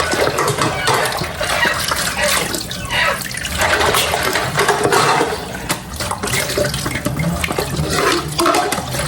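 Water from a mountain source runs steadily from a pipe or tap, a loud, continuous rushing splash with no talk over it.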